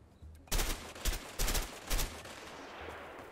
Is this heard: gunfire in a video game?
yes